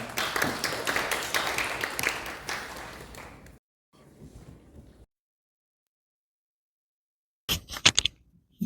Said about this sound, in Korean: 큰 박수로 환영해주시면 좋겠습니다